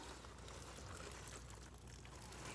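Water poured from a watering can onto the soil around a tomato plant in a raised bed, where worm castings have been spread, making a steady, fairly quiet splashing wash that runs unbroken throughout.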